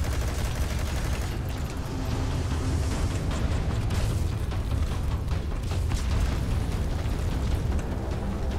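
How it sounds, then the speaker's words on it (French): Explosions and gunfire-like bursts from the video game Metal Gear Solid V: The Phantom Pain: a loud, continuous low rumble laced with sharp crackling blasts and pops, steady throughout with no voices over it. "Ça explose ça."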